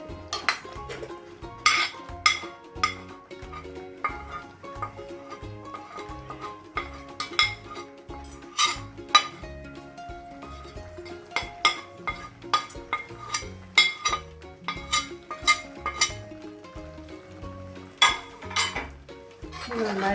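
A spoon scrapes and clinks against a pan as chicken masala spices are stirred. The scraping comes in repeated rhythmic strokes, fairly close, with no talk.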